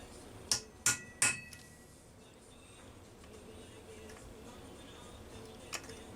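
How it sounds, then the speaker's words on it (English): Hammer striking a center punch on a Homelite Super XL-925 chainsaw part: three sharp metallic taps in quick succession, then a quiet workshop stretch and one last lighter tap near the end. "Try and get a center punch mark here that's on center"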